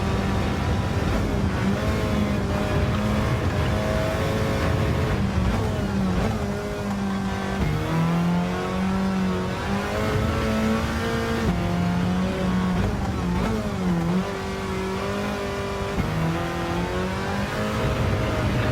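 A car engine drives laps on a track in the Gran Turismo 7 racing game, a continuous loud engine note climbing and dropping through repeated gear shifts and throttle changes.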